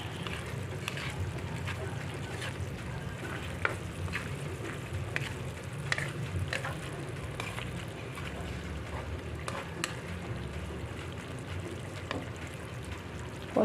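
Ginataang sigarilyas, winged beans in coconut milk, being stirred in a pan, a soft steady simmering bubble with faint scraping of the spoon, quiet and continuous with no talk.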